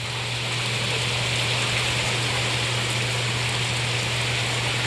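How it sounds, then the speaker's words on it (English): Light rain falls steadily outdoors, a dense continuous patter and hiss that stays even throughout with a faint low hum underneath and no voices. "Raining. Raining a little."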